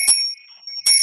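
A meditation bell used in healing practice rings out twice, each bright metallic strike followed by a sustained, steady shimmering tone; the second strike comes near the end.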